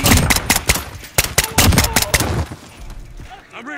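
Rapid automatic gunfire and repeated shots in Call of Duty Modern Warfare, loud and close, coming in dense bursts and then easing off toward the end, with players talking over it.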